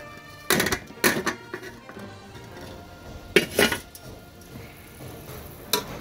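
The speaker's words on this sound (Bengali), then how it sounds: "মাছ দিয়া দিলাম সবগুলো" Washed small fish are tipped into a pot of curry, giving bursts of metallic clattering and clinking between quieter moments, close by.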